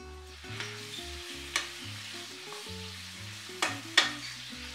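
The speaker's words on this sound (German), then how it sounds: "Die Gewürze einrühren und alles weiter anbraten." Goulash meat sizzles steadily in a hot pan as sweet paprika and spices are stirred in, a utensil scraping and stirring, with a few sharp clanks against the pan over soft background music.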